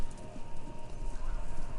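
Horses running in the video game Kentucky Route Zero, a muffled rapid clip-clop of hooves that pulses unevenly under a low steady hum, moderately loud and close.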